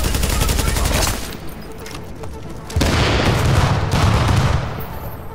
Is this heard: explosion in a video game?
yes